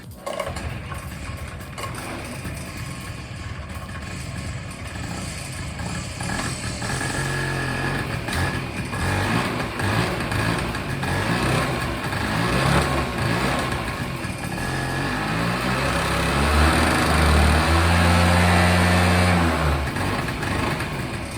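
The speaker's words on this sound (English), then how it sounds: "Hold on, it's idling pretty good right now." A Honda PA50II moped, fitted with a new belt, runs steadily at idle nearby, a light, buzzing small engine with a continuous uneven putter and some low rumble throughout, no voices over it.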